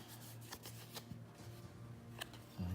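A card drawn from the deck during a Terraforming Mars board game: a few soft papery flicks and slides, close and quiet, with a faint low hum beneath.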